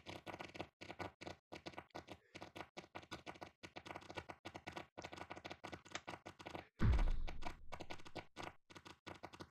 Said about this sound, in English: Why do you hear so much tapping?